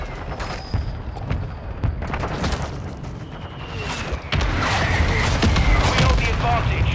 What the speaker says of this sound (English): Friendly mortar strike on the way.